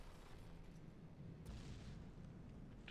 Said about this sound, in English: Torpedoes hitting all along the tops now.